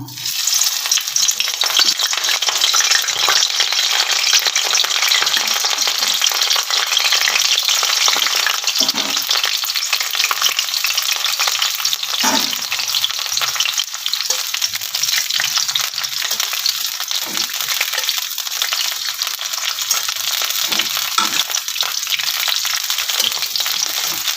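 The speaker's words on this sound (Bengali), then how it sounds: "প্রথমে আমি ফুলকপিটাকে দু মিনিট মতো ভেজে নেব" Cauliflower florets fry in hot mustard oil in a wok, giving a continuous loud, close sizzle with crackling bursts and occasional stirring scrapes throughout.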